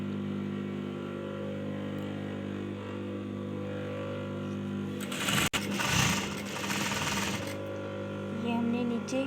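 A sewing machine stitches the lower hem of a sharara with lace, its steady hum running throughout at moderate loudness, with a brief burst of louder rattling near the middle.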